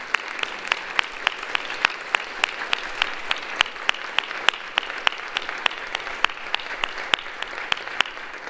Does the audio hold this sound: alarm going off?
no